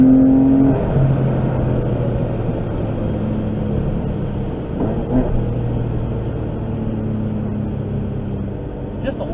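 A Porsche 996 with a stage 2 tune pulls steadily under acceleration on a street test drive, its engine a sustained, fairly loud drone with shifting tones, heard from inside the car with road rumble and no talking.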